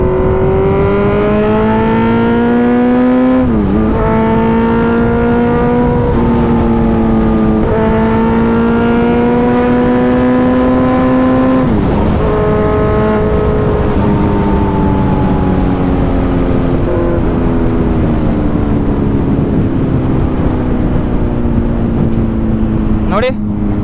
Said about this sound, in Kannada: Seriously amazing machine. One of the finally tune machine ಅಂತಂದರೆ Z900.